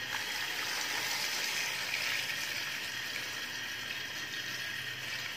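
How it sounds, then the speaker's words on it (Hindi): Water poured into a pot of mutton trotters for Lahori paya, a steady broadband gushing and splashing that runs unbroken for several seconds at moderate level, with no talking. "अब इसमें हम डाल रहे हैं पानी।"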